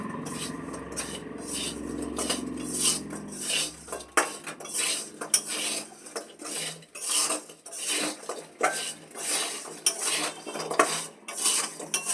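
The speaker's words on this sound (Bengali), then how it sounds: "নাড়াচাড়া করছি ভালো করে" Utensil stirring and scraping food in a metal cooking pot while making homemade wheat sheetal, a faint sizzle fading early, then repeated clinks and scrapes in an irregular rhythm, close and moderately quiet.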